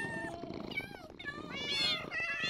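Cats in the game Minecraft give several short, high meows that rise and overlap near the end, mixed under a continuous stretch of talking.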